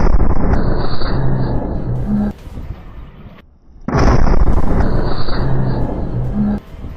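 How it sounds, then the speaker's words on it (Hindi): Attack footage from Jabalia, Gaza, of an IDF D9 bulldozer struck by a Yasin 105 round, with loud, continuous roaring rumble and blast noise near the mic, a brief drop to near silence, then another loud roaring stretch. "जिसकी वजह से बुलडोजर में जोरदार ब्लास्ट हुआ"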